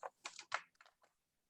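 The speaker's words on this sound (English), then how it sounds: "Oh, I was typing an answer." Quick bursts of typing on a computer keyboard, a handful of clustered key clicks in an uneven rhythm, close and fairly quiet with no voices.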